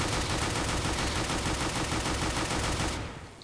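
Dual pistols firing in CS:GO, a dense rapid stream of shots for about three seconds before cutting off abruptly, loud and close with no talk.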